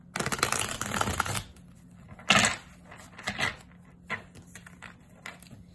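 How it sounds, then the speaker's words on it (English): Tarot cards being shuffled up close, a dense riffling burst followed by a few shorter flicks and soft card taps. "And now I'm gonna shuffle one more time."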